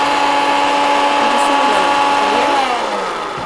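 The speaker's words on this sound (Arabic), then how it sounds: "كفايه؟ ايه الخلاط هيبوظ." A blender motor whirs loudly and steadily, its pitch sliding down near the end as it winds down, with no talking over it.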